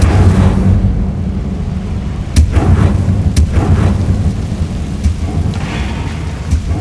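In the Hogwarts Legacy video game, the Incendio fire spell goes off as a deep, rumbling roar. Several sharp cracks punctuate it at intervals, with no voices present.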